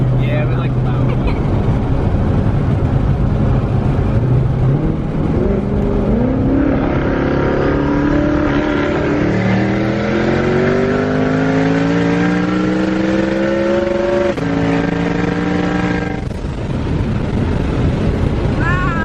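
Cammed twin-turbo Shelby GT500 engine revving hard and droning loud and close, rising through rpm in long sweeping climbs with a brief dip, under people talking.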